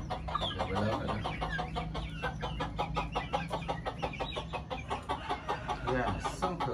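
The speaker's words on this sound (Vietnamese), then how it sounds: "bầy gà 10 con" A flock of ten chickens about two and a half months old clucks nearby in rapid, continuous, overlapping calls, with no talk over them.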